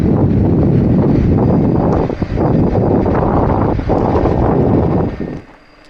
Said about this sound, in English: the wind is blowing already, and then you add that extra wind resistance of you rolling